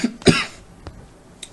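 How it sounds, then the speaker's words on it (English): A person coughs once sharply, followed by a fainter throat sound and a brief soft noise near the end, in a quiet indoor room with no talking. "Oh, the coughs are real."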